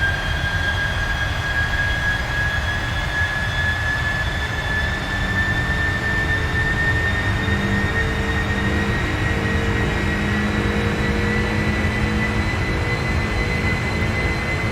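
Steady, loud jet engine drone of a Boeing 747-8 in a flight simulator game, a continuous broadband roar with a faint rising whine running throughout, no talking.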